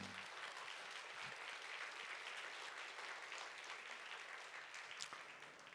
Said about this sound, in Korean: 우리 장로님 감사의 박수를 한번 하고 넘어가는 게 좋겠습니다